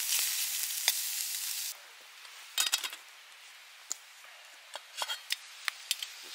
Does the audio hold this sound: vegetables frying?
yes